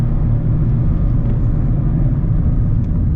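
A Mazda Miata's engine drones steadily from inside the cabin, a heavy continuous low rumble with no breaks.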